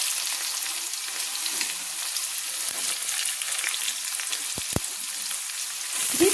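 Chopped carrots frying in a pan for vegetable chowmein, a steady close sizzle throughout with a few sharp utensil scrapes near the end as the vegetables are stirred.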